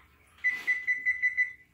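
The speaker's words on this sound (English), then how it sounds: "I'm just gonna set my timer here" A kitchen timer being set gives a short series of about six quick, high electronic beeps in steady rhythm, fairly faint and close, with no voices.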